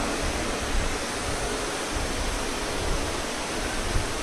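Heavy rain pours down near an outdoor religious discourse gathering in Gurugram, Haryana, making a dense, unbroken roar of hissing water from start to finish.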